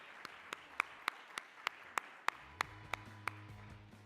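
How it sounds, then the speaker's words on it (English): Sparse clapping at an awards and closing ceremony for startup championship winners: about a dozen distinct, evenly spaced claps ring out in a roomy hall, fairly quiet, with a low hum entering near the end. "Big round of applause"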